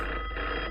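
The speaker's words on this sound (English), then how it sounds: "answer the phone real quick" A telephone rings in a quiet room, one short steady electronic ring tone heard clearly and alone.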